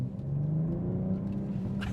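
BMW M240i xDrive coupe engine in Sport Plus mode, a steady close rumbling rev that climbs slightly, with a continuous low growl throughout and no talking.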